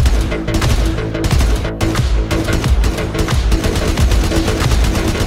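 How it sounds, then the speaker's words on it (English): Tiberian Prime rifle firing in the video game Warframe, a loud dense run of rapid shots blending into a continuous barrage with a couple of brief gaps. "With Zephyr Prime comes Tiberian Prime with three different fire modes."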